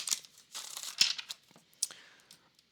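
Playing cards riffle and flutter in short, soft bursts nearby, a few quick shuffles separated by brief pauses.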